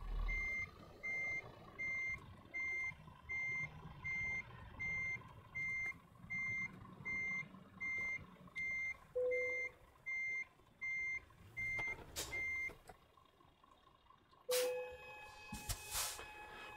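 A truck in Euro Truck Simulator 2 backs up while maneuvering a trailer, its reversing alarm giving a long, steady series of evenly spaced beeps over a low engine hum, ending with a couple of brief electronic tones.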